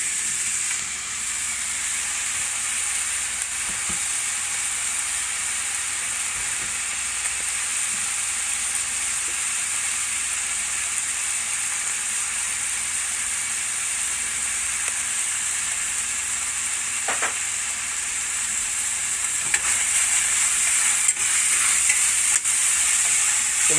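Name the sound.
spicy sausage browning and sizzling in a pan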